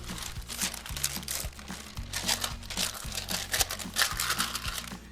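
Sheet of parchment-style paper crinkling and crunching as it is pressed into the corners of a baking pan and folded down for a lemon bar crust, close and continuous with repeated crisp rustles.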